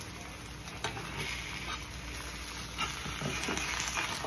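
Food sizzles and crackles steadily in a pan, a dense close hiss with faint stirring or scraping ticks and no talk.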